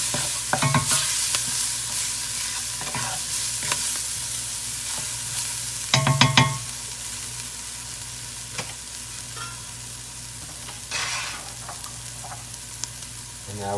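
Garlic sautéing in the pot of a pressure cooker for chicken noodle soup: a steady low sizzle runs throughout, broken by a few louder clinks and scrapes of stirring, with no one talking.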